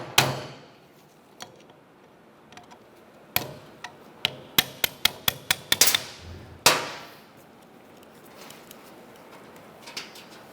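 Hammer blows knocking a pin out of the steering column lever on a 2001-2005 Ford Explorer Sport Trac, a few scattered taps and then a quick run of sharp metallic bonks, close and fairly loud, with no talk over them.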